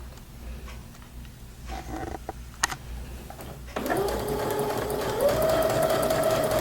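A sewing machine starts after a few quiet clicks and handling sounds, then runs steadily, sewing straight stitches with a continuous mechanical whir that rises slightly in pitch.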